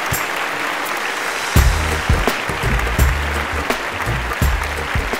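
At the Jashn-e-Rekhta festival in Delhi, the crowd greets a guest with sustained, loud applause. The clapping continues throughout, mixed with a steady musical accompaniment.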